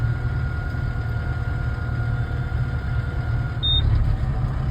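A Kubota M110X tractor engine idles steadily outdoors on a farm, a constant low rumble with a faint hum and one short high beep near the end.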